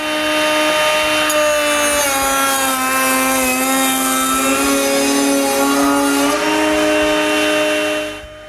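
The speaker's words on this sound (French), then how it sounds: "je coupe des rainures pour les panneaux du centre" A router bit cuts grooves in wood for the center panels of a miter saw cabinet, a loud, steady high-pitched whine that shifts slightly in pitch as it bites, alone and close, winding down at the end.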